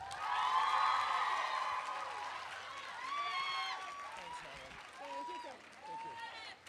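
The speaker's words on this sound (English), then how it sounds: "So can we have an applause from Tim Gunn?" Audience applause with scattered whoops for a fashion keynote speaker at a teen design fair, a broad steady clapping wash that slowly fades while a voice talks over it.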